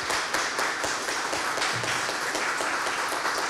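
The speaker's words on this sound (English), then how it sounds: "please join me in the final applause to our speaker" Lecture audience applauding a professor at the close of a talk, a steady sustained wash of many hands clapping at moderate volume, with no voices over it.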